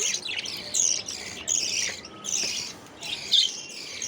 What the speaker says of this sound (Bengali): আমাদের পাখিগুলো অনেক হয়েছে